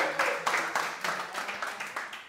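A studio audience claps at a steady rhythm on a French game show, with a series of evenly spaced clap bursts that stay moderately loud and gradually fade. No speech is heard over the clapping.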